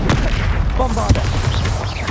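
Bombarda spell explosions in Hogwarts Legacy: heavy booming blasts rumbling under shouted spell voices, dense and loud for the whole stretch.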